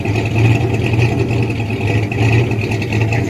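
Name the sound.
1979 Ford F150 rebuilt engine idling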